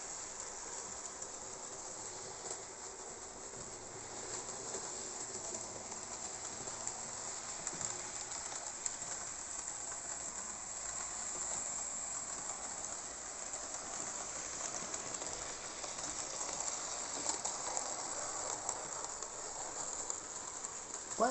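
An HO-scale French local train locomotive with new traction tyres, hauling a heavy Hornby HO coach, gives a steady, even whirring rumble that carries on without pause and swells a little near the end.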